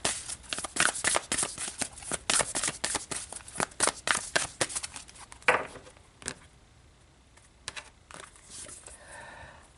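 Tarot cards shuffled by hand close up, a dense run of riffling flicks and patters that thins into scattered card taps and slides toward the end.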